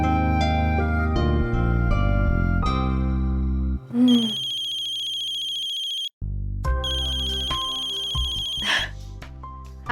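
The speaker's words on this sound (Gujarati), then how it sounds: "તમે શ્રુતિને ફોન લગાડશો?" A telephone ringtone plays loudly and steadily while an outgoing call is placed, a bright repeating melodic tone with a brief break partway through, and no talking over it.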